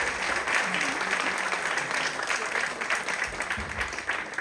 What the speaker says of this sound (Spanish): Demos un fuerte y afectuoso aplauso al maestro Raúl Héctor Sayar Tapia